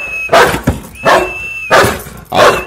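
Guard dog barking during training, four loud close barks spaced about every second and a half, with a steady high whistle-like tone in the background and no talk.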